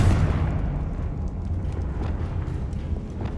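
A Confringo spell explosion in Hogwarts Legacy sounds as a heavy, rumbling blast that starts loud and decays into a sustained low roar, with no voices over it.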